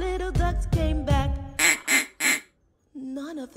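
A voice imitates a mama duck in a children's puppet song. Sung lines are followed by three loud, nasal quacks in a row, then the singing resumes.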